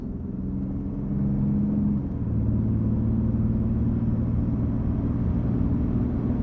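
A car being driven fast gives a steady, loud engine rumble and road roar throughout, with a slight shift in pitch partway as the motor works harder; no voices are heard.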